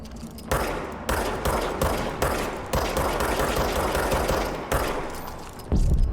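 Gunfire in the action game Control, rapid loud bursts of shots in several sustained volleys separated by brief gaps, close and dense with no talking.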